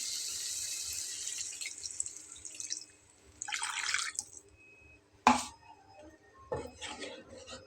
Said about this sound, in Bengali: এখন আমি এখানে ঝোলের পানি দিয়ে নেবো যতটুকু দিতে যাচ্ছি